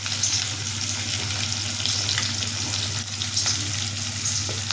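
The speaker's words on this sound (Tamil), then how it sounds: "சின்ன வெங்காயமும் பூண்டும் குழம்புக்காக அந்த எண்ணெயில் போட்டு இப்போ வதக்குறோம்" Small onions and garlic fry in oil for a spicy tamarind kuzhambu, giving a steady, close crackling sizzle with a low continuous hum underneath and occasional light stirring scrapes, no voices.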